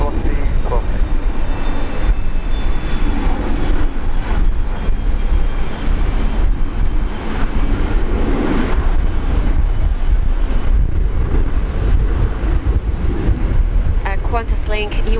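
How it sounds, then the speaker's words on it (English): An Embraer E190 jet operated by QantasLink takes off at Brisbane International Airport in heavy rain, a steady broad roar blended with the hiss of rainfall, with faint voices in the background. "Qantas Link E190 taking off."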